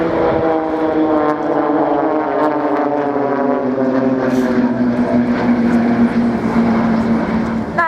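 Blades team aerobatic propeller aircraft fly the Spitfire roll at Shoreham Airshow 2014, a loud droning engine note with steady harmonic tones that shift slowly in pitch, while an announcer speaks over it.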